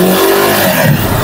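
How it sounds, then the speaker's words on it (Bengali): A Suzuki Gixxer SF FI motorcycle engine revs loudly at close range, a steady, smooth roar that holds for just over a second with no voices. "দেখতে পাচ্ছেন গাড়ির ইঞ্জিনের সাউন্ড কিন্তু খুবই স্মুথ,"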